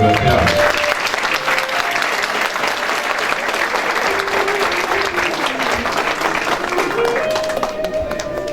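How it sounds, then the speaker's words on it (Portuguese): Sustained applause from an audience at a medal and honors ceremony in Ouro Preto, steady dense clapping filling the whole stretch with a faint voice briefly underneath. "Uma salva de palmas para o agraciado."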